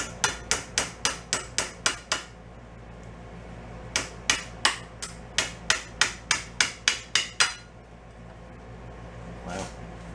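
A hammer tapping on a part of a free autobike under repair: two quick runs of sharp metallic knocks, about seven and then ten in steady rhythm, close up, followed by a single fainter hit near the end.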